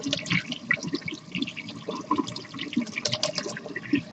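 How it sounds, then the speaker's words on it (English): A piece of 1.5 by 3-inch stainless steel number 500 mesh is rinsed under a running tap, with water splashing and pattering unevenly up close over a steady flow, no voices. "So we're going to go ahead and rinse this off."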